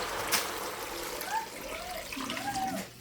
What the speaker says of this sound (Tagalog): lagyan nyo ng tubig